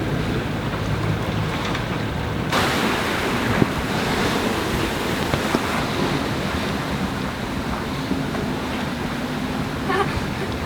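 At sea aboard a sailboat, wind buffets the microphone in a loud constant roar while waves wash and splash against the hull, with a gust surging after a couple of seconds.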